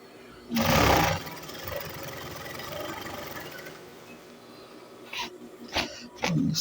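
A sewing machine stitches elastic onto a ladies' trouser in one short, loud motor burst, followed by quieter handling rustle and a few sharp clicks near the end.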